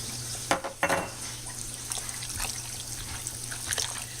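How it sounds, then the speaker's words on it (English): About half a cup to a cup of water is poured into a pan of cooking taco meat, a short splash and trickle followed by a soft sizzle and bubbling, close and moderately quiet. "So I say this is probably about a half a cup to a cup of water. And I'm going to pour that in there."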